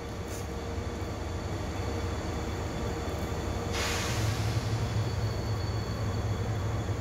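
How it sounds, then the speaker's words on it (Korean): A KTX high-speed train rumbles steadily and heavily into Dongdaegu station, the noise swelling slightly midway with an added airy hiss as it rolls closer. "43 열차 진입합니다"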